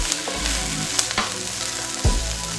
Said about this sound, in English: Again, just gonna saute this.